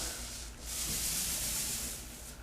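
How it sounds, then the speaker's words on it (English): A mini roller back-rolls primer over a patched wall, making a soft, steady rubbing hiss that swells slightly mid-stroke, quiet and close with no speech. "Once I get the paint on there, I want to just back roll."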